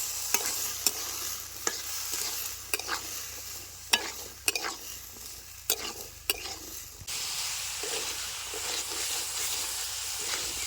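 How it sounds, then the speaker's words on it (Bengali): Potatoes and peas fry with spices in a pan for a village-style ghugni, a steady close sizzle broken by sharp scraping strokes of a spatula, with a brief quieter dip before the hiss swells again. "মশলার সাথে আলু মটরশুঁটি ভালো মতো কষাই নিছি"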